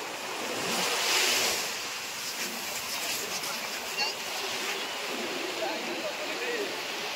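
Small sea waves wash in at Puri beach at night with a broad, steady roar of surf that swells slightly and then settles, mixed with wind noise and faint voices in the background.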